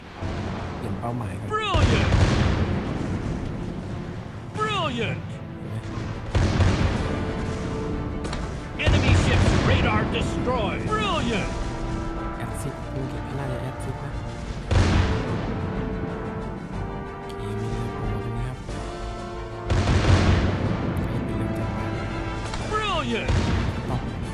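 Naval gunfire in the mobile warship game King of Warship: repeated heavy cannon booms every few seconds with rumbling tails, loud and dense, alongside game music and effects, with someone talking over it.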